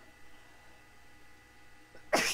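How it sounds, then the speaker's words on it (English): A woman sneezes once, close and sudden, at the very end after a near-silent pause in a crafting room. "I'm going to sneeze, hold on,"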